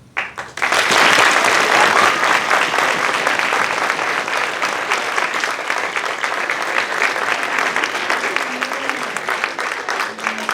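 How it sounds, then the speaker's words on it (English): Sustained audience applause fills the room after a slam poetry performance, dense clapping starting abruptly and holding steady and loud throughout, with a faint voice near the end. "Give him a round of applause again, because that was awesome"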